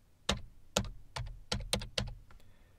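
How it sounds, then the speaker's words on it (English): Keys clack on a computer keyboard as a short command is typed into PowerShell: about seven crisp, close keystrokes in an uneven rhythm, some in quick pairs, with no speech. "I'm going to type PS2EXE"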